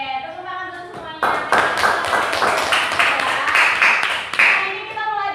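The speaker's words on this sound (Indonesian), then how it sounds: "tepuk tangan dulu semuanya" A classroom of students claps hands together in a burst lasting several seconds, loud and close, with a teacher's voice heard before and after.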